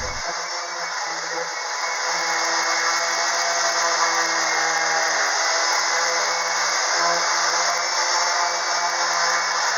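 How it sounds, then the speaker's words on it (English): Constant droning hiss and whir of a power sander running steadily on low-grade plywood, loud and unbroken throughout. "Now I'm just going to go ahead and do a lot of sanding."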